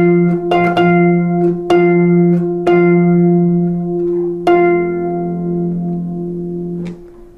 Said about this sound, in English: you can actually do a fanfare before this if you'd like